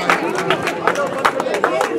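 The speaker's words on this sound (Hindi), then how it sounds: "जोरदार तालियां एक बार।" Clapping from an audience at a Haryana honouring ceremony for a young dragon boat medal winner, with sharp hand claps rising over steady crowd chatter through the whole moment.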